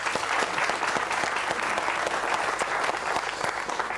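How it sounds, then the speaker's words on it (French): A crowd at a market gathering applauds Jean-Pierre for his hundredth market, with loud, dense, continuous clapping close by. "ceux qui applaudissent, pour ceux qui nous rejoignent maintenant, sont tous ceux qui ont accompagné Jean-Pierre lors de sa centaine de marchés"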